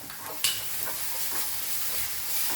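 Tomato masala for paneer curry sautéing on high flame on a small burner, a close, steady sizzle and hiss with a sharp spoon scrape near the start and soft stirring scrapes throughout.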